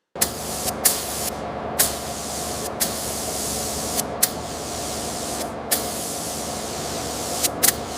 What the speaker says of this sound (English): The 1902 Stanley Steamer fenders received their first coat of original black paint, transforming the surface into a flawless, glossy finish.